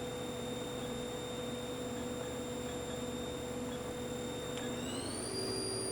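Haas vertical machining center main spindle spinning at 3,000 RPM, a faint, steady whine over low hum that rises in pitch near the end as the speed changes.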